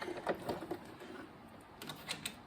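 A sewing machine back stitches across a quilted fabric heart, giving short bursts of quiet rapid needle clatter separated by brief pauses, faint and close with no talk.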